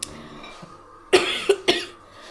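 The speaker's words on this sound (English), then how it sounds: "it's really hard to do things when you're coughing all the time" A person coughing, three sharp close coughs in quick succession after a quiet breathy pause, loud and alone.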